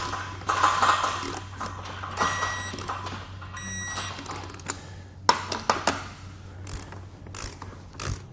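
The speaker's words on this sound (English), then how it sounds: "we can begin torquing our wheels in place to the proper torque settings located in our instructions" A torque wrench tightens trailer wheels during assembly of a two-tier kayak trailer, making close mechanical ratcheting clicks in irregular bursts with a few louder clunks and metallic rattles.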